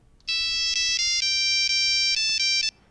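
A Nokia 3310 mobile phone plays a monophonic ringtone of the Turkish folk song Sordum Sarı Çiçeğe, a loud, clean beeping melody of short and sustained notes lasting a few seconds, then stopping.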